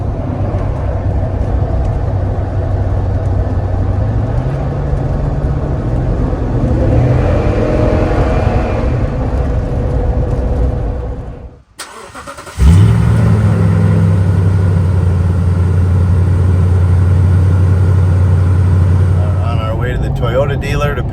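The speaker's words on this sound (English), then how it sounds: "A little cruising with the back window down" A Toyota truck cruises with its rear window down, making a steady engine rumble mixed with wind and road noise, then a brief dip before the engine note returns loud and droning, with someone talking over it.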